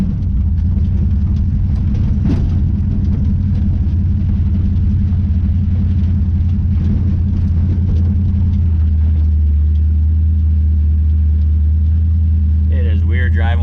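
1967 Chevrolet C10 truck driving, a loud steady low engine rumble with road drone throughout, shifting in tone near the end as voices talk over it.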